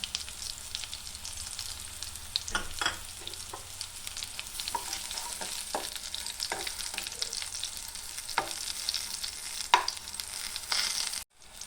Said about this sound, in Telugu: పచ్చిమిర్చి వేగినాక కొంచెం కొబ్బరి అల్లం వేసుకొని లైట్గా ఫ్రై చేసుకోవాలి